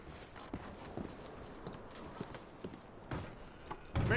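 Horse hooves clip-clopping in Red Dead Redemption 2, a series of soft, spaced hoof thuds at a slow walking pace, fairly faint under ambient game background, ending in a louder burst.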